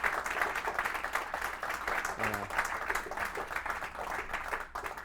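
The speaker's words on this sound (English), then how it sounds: "So just one more round of applause for Patty for all she's doing" Jazz concert audience at a library trio performance giving a round of applause, steady mid-loud clapping throughout with faint murmurs underneath.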